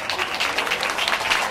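Applause from the audience at the official opening ceremony of Yazaki SA in Mariano Roque Alonso, a dense, steady wash of many hands clapping throughout the short stretch with no talk over it.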